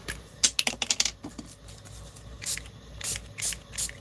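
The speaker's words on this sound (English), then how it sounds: "This is that mica distress spray. Putting it everywhere." Mica distress spray misted over a craft project: several quick hissing bursts, a rapid cluster early then a few longer sprays later, close and fairly loud with no talk.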